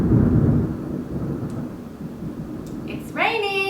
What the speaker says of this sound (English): It's raining. It's rained every day.